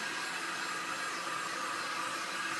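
A 2,000 watt heat gun blows steadily at close range, a constant airy rush with no breaks and no voices.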